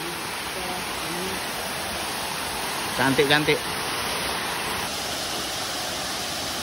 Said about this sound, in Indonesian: Ini air terjun Kolam Darah Baru.